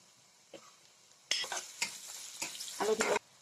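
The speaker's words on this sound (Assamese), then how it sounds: "হালধি নিমখখিনি পিঁয়াজৰ লগত অলপমান ভাজি ল'লোঁ" Onions frying in a pan with turmeric and salt, a soft sizzle broken by several bursts of stirring and scraping, close and moderately loud with no talking.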